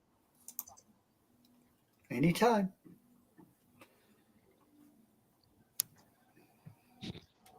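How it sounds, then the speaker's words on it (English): Scattered clicks of a computer mouse or keyboard come faintly in brief bursts between quiet gaps, with a short spoken word partway through. "I can hear you clicking away"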